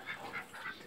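Nesting ducks on a farm where the first hen has started sitting on eggs, giving three soft, repeated honking quacks at close range, fairly quiet, with no talk over them.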